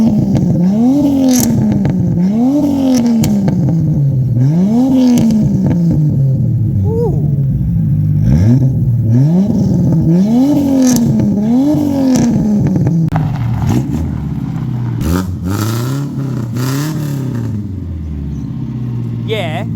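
A turbocharged Nissan RB30ET engine in an RB30ET-powered car is revved hard several times in a row, each rev rising and falling in loud, close, rhythmic sweeps, with people talking over it.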